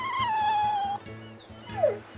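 A dog in the video game Tales of Berseria lets out a drawn-out whine, then a short yip, over a repeating low rhythmic background pulse.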